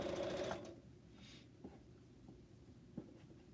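A sewing machine stitches quilt pieces for a pineapple block in a brief burst of whirring at the start, then falls quiet apart from a few faint handling clicks.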